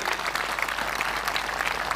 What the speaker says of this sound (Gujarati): એમના માટે જોરદાર તાળી પાડી લઈએ।